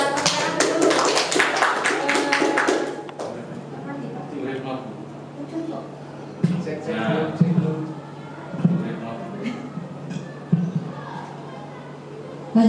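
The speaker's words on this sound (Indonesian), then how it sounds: "Tepuk tangan dulu." Talk at the start gives way to a short, scattered round of clapping from a small group, with sparse claps trailing off.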